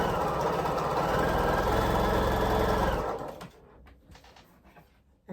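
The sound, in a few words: sewing machine sewing a quilt half square triangle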